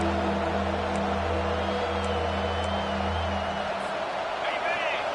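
A college football stadium crowd roars steadily behind the defense on third down, a broad sustained cheer that holds at full volume, with a commentator talking over it.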